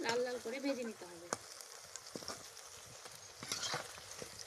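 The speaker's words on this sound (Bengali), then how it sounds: "এগুলো লাল লাল করে ভেজে নিতে হবে।" Banana flower koftas sizzle in hot oil in a well-used black iron wok, with a steady frying hiss and a few sharp clinks from turning them; a brief voice hums near the start.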